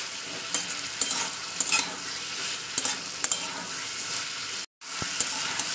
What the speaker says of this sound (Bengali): মশলাটাকে ভালোভাবে কষিয়ে নিচ্ছি তেলের উপরে, যাতে আদা রসুনের গন্ধটা একদম যাতে না থাকে